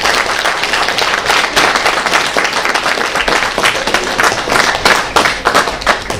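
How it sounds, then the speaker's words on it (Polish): At a preschool event in Czarny Dunajec, an audience gives loud, sustained applause for the young children, many hands clapping close and dense in a continuous crackling burst with no speech. "Brawa dla nich."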